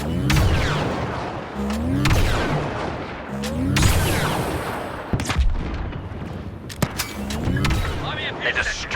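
Repeated blaster gunfire and heavy booming blasts in a large Star Wars Battlefront II battle on Geonosis, sharp bursts arriving in clusters over a constant roar of combat.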